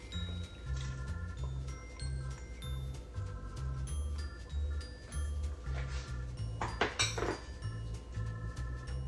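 Italian pasta salad tossed in a bowl, a soft, irregular stream of clinks and squishy scraping from a utensil against the dish, close and moderately quiet, over a low background hum.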